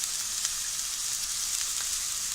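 Sugar snap peas sauté with freshly grated coconut in a hot pan, giving a steady, close hiss of sizzling that stays even throughout with no talking.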